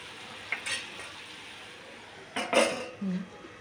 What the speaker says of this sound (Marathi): तर चांगलं हे परतून घ्यायचं आहे